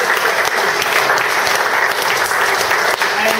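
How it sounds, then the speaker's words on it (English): Audience applause at a tech talk on data integration, steady dense clapping filling the room for the whole stretch, loud and close, with some voices faintly mixed in. "I just want to give a great big round of applause to Richard Thomas, Director of Technical Services"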